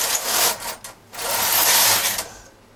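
A knitting machine carriage sliding across the needle bed while knitting a bag, a steady mechanical whirring rush that swells and dips over a few seconds, close and fairly loud with no talking.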